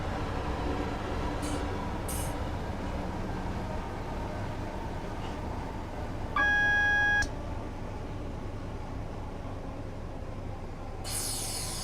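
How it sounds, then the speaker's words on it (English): A train coasting with power idled in Train Simulator 2017, approaching Peckham Rye station on the London Bridge to Victoria route, rolls with a steady low rumble, brief clicks and a short electronic beep partway through, no voices. "I'm going to idle the power and just allow the train to coast"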